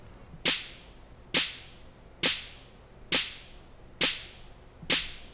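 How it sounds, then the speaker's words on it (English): Two layered snare samples strike together in a dance beat, six sharp, bright cracks about a second apart, each with a short decaying tail, loud and alone. "I've got these 2 snares layered on top of each other"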